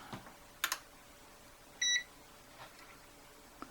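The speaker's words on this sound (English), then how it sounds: "It's still beeping." A single short electronic beep sounds once from a device that has been unplugged, faint and alone in a quiet room among a few soft clicks and taps.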